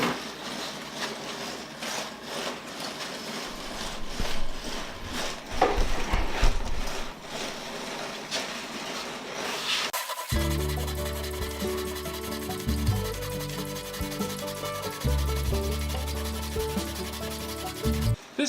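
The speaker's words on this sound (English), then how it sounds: "4-tooth per inch rip saw and cutting some blanks out of this piece of firewood" Coarse 4-tooth-per-inch hand rip saw cutting catalpa firewood into pen blanks, with loud close rasping back-and-forth strokes in a steady rhythm throughout.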